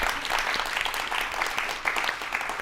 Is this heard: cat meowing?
no